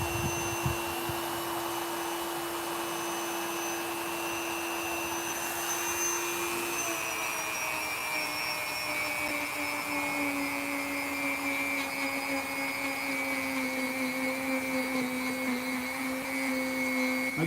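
A Dremel rotary tool whines steadily as it sculpts a foam latex mask, a continuous high-pitched motor drone with a pitch that slides lower partway through, close and unbroken, with no talking.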